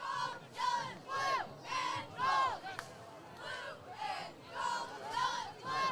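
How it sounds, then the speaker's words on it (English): Crowd at a varsity high school football game against Bishop Miege, rhythmic chanting and cheering voices rising and falling in repeated waves, loud and fairly close, like a student section in unison. "So enjoy crowd noise until further notice."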